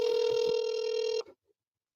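A telephone line tone rings steadily while a call is being transferred to a specialist. It is a loud, sustained electronic ring lasting over a second, then it cuts off into near silence.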